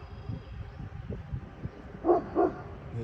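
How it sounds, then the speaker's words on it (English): A dog barks twice in quick succession at a distance beside a fishing spot in the morning, the sharp barks standing out over a low background hum. "The dog barking doesn't seem to be bothering them."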